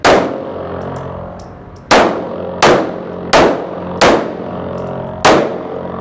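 Six loud, sharp gunshots crack out at irregular intervals of roughly a second while the shooter moves, each followed by a short ringing decay, with no voices.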